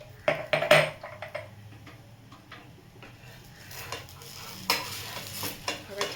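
Ghee brushed onto a protein pancake (dhirde) cooking in a pan sizzles softly and steadily, and a few sharp metallic clinks and scrapes of a spatula against the pan break in near the start and again toward the end.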